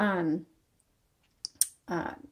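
A few sharp key strikes on a vintage Smith Corona Galaxie Twelve typewriter, brief and fairly close, fall in a short gap between stretches of talking.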